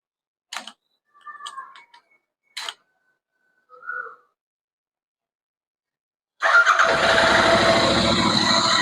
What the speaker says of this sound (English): then after we will start the motorcycle